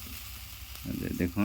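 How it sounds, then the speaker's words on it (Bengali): Sliced bananas sizzle in hot oil in a pan as part of a fish curry, a steady frying hiss that grows louder toward the end while someone speaks over it. "এই যে কলা ভাজা নিতেছে।"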